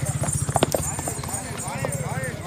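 A mare walked through a bumpy fairground path, her hooves clip-clopping in a quick steady rhythm close by, with a horse whinnying faintly and people talking over the steps.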